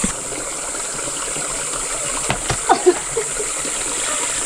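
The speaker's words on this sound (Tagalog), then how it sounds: "Small falls." A small waterfall on a Cebu trail, a steady close rushing of water with a few brief splashes and knocks over it.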